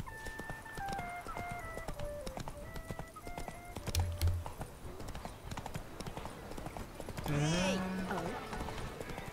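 Horse hooves clip-clop steadily in The Witcher 3 over background game music. A horse whinnies near the end, and someone talks over the sounds.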